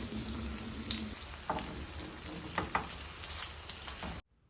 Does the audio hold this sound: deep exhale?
no